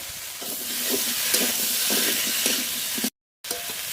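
Steady sizzling and hissing of young jackfruit frying in a pan, with stirring scrapes throughout and a brief dropout near the end.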